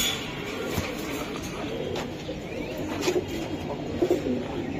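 Pigeons coo in a loft where fancy breeds such as Pakistani teddy and Giribaz pigeons are kept, with soft low coos rising over a steady background of shuffling and rustle, a few louder calls near the end.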